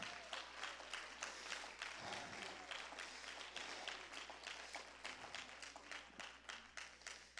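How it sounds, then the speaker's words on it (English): A church congregation claps its hands in a steady, rhythmic beat for several seconds during a service. The clapping sounds fairly distant over a low, constant electrical hum. "Clap your hands to him."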